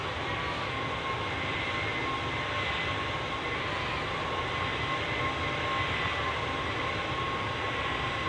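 A McDonnell Douglas MD-11F freighter jet roars past in X-Plane 12, a steady, loud, broadband engine rumble with a faint whine that holds level throughout, no voices.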